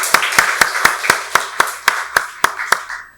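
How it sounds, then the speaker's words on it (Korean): A church congregation at Sunday worship claps in unison, about a dozen sharp, evenly spaced claps in a steady rhythm with faint room noise between them. "박수로 하나님께 영광 돌리겠습니다."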